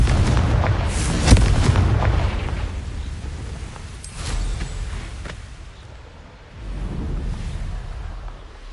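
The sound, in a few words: Confringo spell blasts in the Hogwarts Legacy video game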